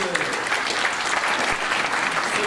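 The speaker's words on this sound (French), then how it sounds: "on peut applaudir Marcel pour ce" Audience applause for Marcel, a mayor and tourism vice-president, at a town's 2017 New Year wishes ceremony in Louveciennes, a thick steady wash of many hands clapping throughout without pause.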